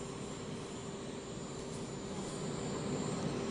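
A helicopter engine at a presidential arrival in Johnstown gives a steady, faint turbine whine over a constant low drone, heard alone without voices.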